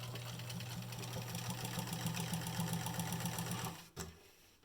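A sewing machine stitches bias tape onto a fabric surgical mask, its fast, even mechanical whirr and needle chatter running steadily up close before stopping abruptly near the end.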